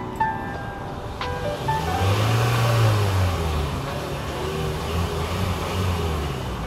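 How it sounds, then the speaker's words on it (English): A 2014 Hyundai Elantra 1.8 on its stock exhaust revs once, a low, quiet engine note swelling near and then settling back to a smooth idle. "let's go ahead and hear how the exhaust sounds"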